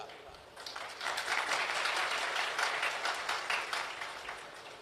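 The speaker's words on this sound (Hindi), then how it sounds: "अब ताली तो बजा रहे हो" Audience applause at a Hindu religious discourse, a dense steady patter of many hands swelling after a quiet start and holding at moderate loudness before easing slightly.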